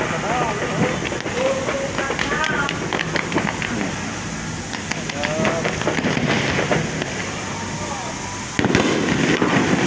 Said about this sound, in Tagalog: Umuulan talaga, paputok.